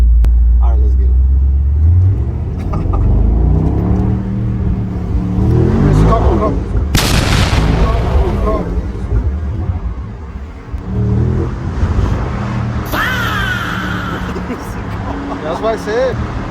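A 2025 Mercedes-AMG SL63 S E Performance does a launch control start, rumbling at idle before a loud surge of engine revving and rising acceleration tones through several shifts, with people talking and exclaiming inside the car.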